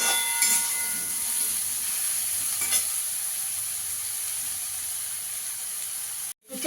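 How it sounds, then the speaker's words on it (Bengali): Salted eggplant frying in a pan, a steady close hiss and sizzle that keeps on without a break, with a brief stir partway through and a short cutoff near the end. "বেগুনটাকে একটু ভেজে নেবো ভালো করে।"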